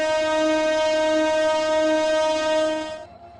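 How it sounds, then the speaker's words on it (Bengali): A locomotive in a Bangladeshi train simulation game sounds a long, loud, steady horn blast that cuts off near the end, leaving a quiet rumble of the train starting. "লম্বা একটা হর্ন দিয়ে আমরা রওনা হই।"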